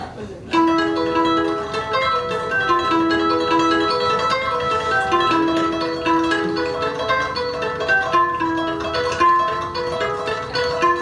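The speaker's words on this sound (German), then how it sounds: "Ich spiele jetzt mal eine richtige Malagueña, einen spanischen Tanz." A live stage performance of a Malagueña, a Spanish dance, on a sustained melodic instrument, with steady notes and phrases playing continuously at close range.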